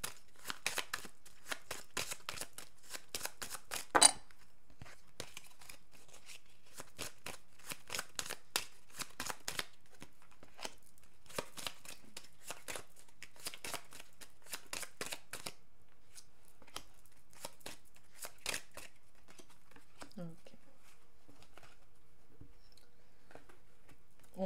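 A deck of tarot cards is shuffled close up in rapid papery flicks for about fifteen seconds, then the riffling thins out into a few scattered taps before quiet.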